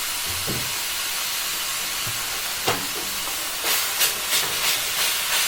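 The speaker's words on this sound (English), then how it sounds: "to this we're going to add 500 grams of ground lamb" Ground lamb cooking in a cast iron pot for keema curry: a constant hissing sizzle, close and fairly loud, broken by a few sharper scraping or spitting bursts near the end, with no talking.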